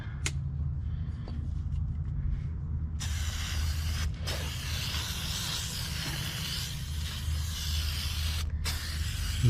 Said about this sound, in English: There's definitely a lot you can get into down here. Lots of spraying.